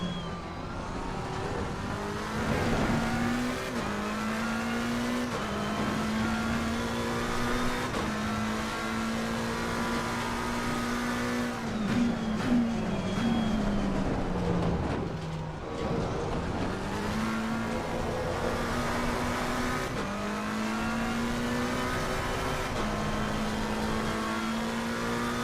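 Race car engine in Assetto Corsa Competizione played in VR with a wheel, loud and close, repeatedly climbing in pitch through the gears with brief drops at shifts and a dip under braking, with no talk over it.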